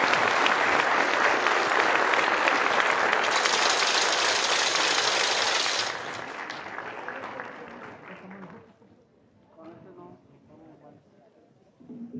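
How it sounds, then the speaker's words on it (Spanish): A large crowd breaks into loud, dense applause that holds strong for about six seconds, then thins and fades to scattered claps and murmuring voices. "quiero pedir un fuerte aplauso precisamente para ustedes"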